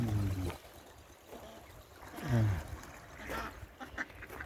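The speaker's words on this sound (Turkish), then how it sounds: "Bir sürü ördek." Ducks quack in a few scattered bursts close by, with faint water sounds and outdoor ambience between calls.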